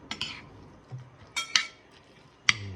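Two metal spoons stirring sisig on a plate, producing several sharp, close clinks and scrapes spaced irregularly with quiet gaps between them.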